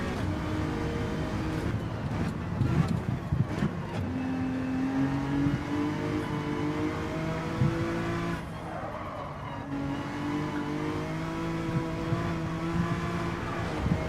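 Race car engine in Gran Turismo 7, revving steadily and loudly throughout with shifting pitch from gear changes, plus brief tire squeal and skidding noises, no talking.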